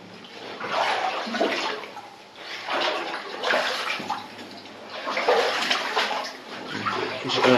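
Water falls inside Adit No. 7 of the Liczyrzepa mine, a loud rushing splash that surges in repeated waves and briefly eases between them. It echoes against the enclosed rock.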